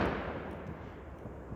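Neighbors' Fourth of July fireworks go off nearby: a single booming burst opens and rumbles away into a fading tail, with faint pops trailing behind and no voices.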